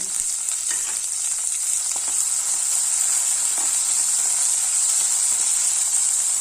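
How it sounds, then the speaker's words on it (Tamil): A tomato fries in a pan with a strong, steady, close sizzle and hiss, broken by occasional light stirring clicks, continuous and without speech. "இந்த ஸ்டேஜில் தக்காளி சேர்த்துடலாம்."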